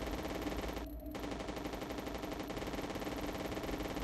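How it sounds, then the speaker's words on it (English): A level 3 machine gun fires in Contra: Hard Corps Uprising as a dense, rapid stream of shots, steady and continuous with only a momentary dip near the start. "Great, and now I have level 3 machine gun,"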